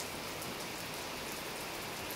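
Steady, heavy summer rain falls continuously with a dense hiss, with no voices.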